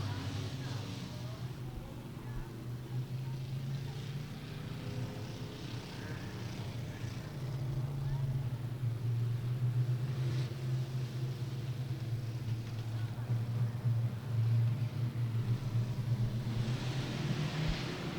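Stock cars roar down the front straightaway at Beckley Motor Speedway, a steady, loud engine drone that swells midway and holds, with a public-address style voice faintly underneath.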